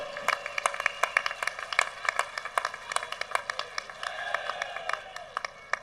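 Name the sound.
audience applause for Maharana Pratap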